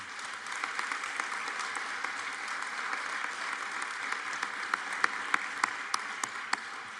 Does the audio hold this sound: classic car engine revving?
no